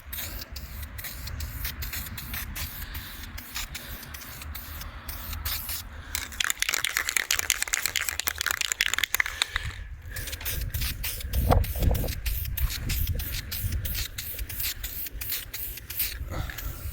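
An aerosol can sprays automotive filler paint in heavy coats, a continuous close hiss broken by rapid rattling clicks and shifting pitch as the can moves around the part.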